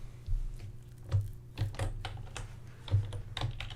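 Code being typed on a computer keyboard, bursts of close, crisp key clicks with irregular rhythm and a few heavier thumps, heard alone without talk.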